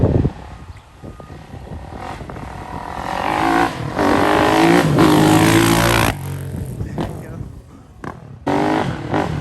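A KX450F dirt bike engine revving in bursts, rising and falling loudly up close, with people talking over it in between.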